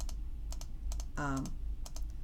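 A computer mouse clicks sharply during photo editing, a handful of crisp, close clicks spaced irregularly, with a brief vocal sound in the middle.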